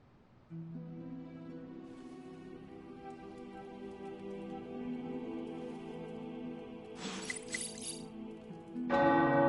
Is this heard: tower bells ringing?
yes